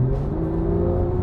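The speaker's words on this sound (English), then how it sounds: "I love the noise of Porsches as well. I think there's something about that flat six engine that just makes a pure engine noise" Porsche 991.2 GT3 flat-six engine holds a loud, steady rev, a smooth sustained tone with a rich layered drone close by, heard alone without talk.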